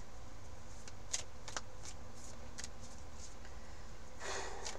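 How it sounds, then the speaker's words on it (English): Tarot cards being shuffled by hand, a soft papery riffle with several short crisp bursts spread across the clip and a denser rustle near the end, quiet and close with no talking. "Give it a bit of a shuffle and see what pulls out."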